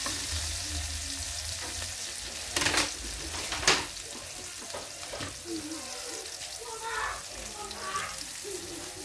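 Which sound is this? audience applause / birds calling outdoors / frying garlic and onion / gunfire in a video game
frying garlic and onion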